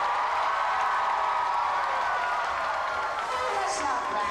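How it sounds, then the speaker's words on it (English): Crowd at a Batman stunt show at Six Flags Over Texas in 1993 clapping, cheering and shouting on cue, a loud continuous roar of applause and voices that slowly tapers toward the end. "we want to hear a big round of applause and lots of noise"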